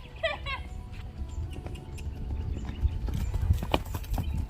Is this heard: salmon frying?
no